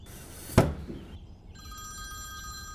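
A telephone rings indoors in a household scene from a Bengali detective audio drama: a sharp ring burst, then a sustained electronic ringing tone that carries on to the end.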